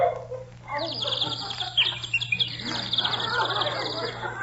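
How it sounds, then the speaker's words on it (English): A small bird sings in short, high chirping phrases running through the whole stretch, fairly clear against a steady low hum and faint background voices. "Do you hear that little bird singing, Welby?"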